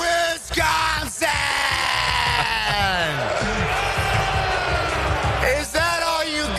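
Packers fans packed into a crowd at the NFL draft in Green Bay, Wisconsin, yelling and booing in a loud, sustained roar with rising and falling cries, close and dense throughout.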